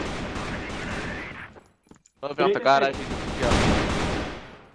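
Rapid gunfire rattles in dense bursts before and after a short pause, with someone speaking briefly in between.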